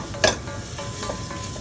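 Pieces of meat dusted with flour sizzle in a pan as they are stirred, a steady low frying hiss marked by one sharp scrape near the start and a few softer stirring strokes after.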